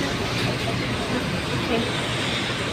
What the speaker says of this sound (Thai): ตอนนี้เราเข้ามาบนขบวนรถไฟฟ้าแล้วนะครับ